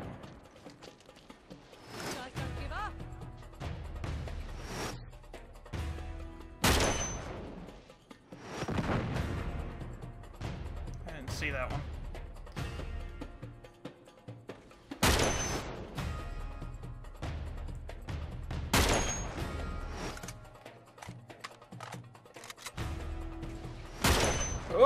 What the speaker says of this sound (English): Funny, they only seem to be firing at me for some reason.